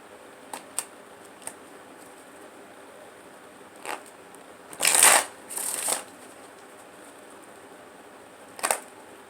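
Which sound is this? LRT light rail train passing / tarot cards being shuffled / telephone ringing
tarot cards being shuffled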